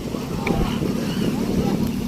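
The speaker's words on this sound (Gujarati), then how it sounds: "તો આ બોટ જાય છે બહાર" A boat engine drones steadily beneath heavy wind buffeting the microphone as the boat heads out to sea off Shiyal Bet island carrying swimmers, with a faint voice in the background.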